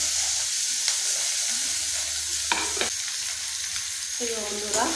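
Tomato frying in a pan for a chicken dinner, a steady broadband sizzle running throughout with a few stirring scrapes and clinks near the end, no talking.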